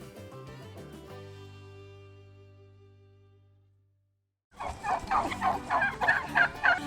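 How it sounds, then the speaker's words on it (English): Wild turkeys near a houseboat burst into a loud, rapid chorus of overlapping gobbles, close by, after a fading musical tone and a moment of silence. "We were attacked by a gang of turkeys earlier."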